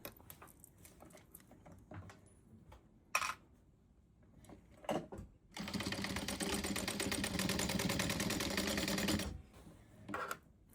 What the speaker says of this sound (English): then we're gonna stitch this down